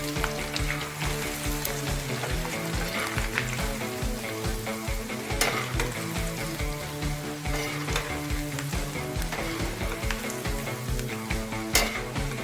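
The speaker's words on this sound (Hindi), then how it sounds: "अब हरी मिर्ची को भी फ्राई कर लेते हैं। हरी मिर्ची का गीलापन खत्म हो जाए, बस तब तक फ्राई करेंगे।" Green chillies fry in a pan with a continuous, close sizzle and crackle, broken by occasional stirring scrapes and small pops, with no one talking.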